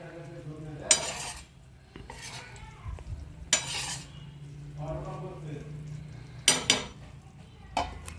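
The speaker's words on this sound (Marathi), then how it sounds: "आता त्यामध्ये आपला शेंगदाण्याचा कूट टाकायचा" A spoon stirs ground peanut powder into cluster bean curry in a pan with a few sharp scrapes against the metal and a faint sizzle underneath, spaced out over several seconds.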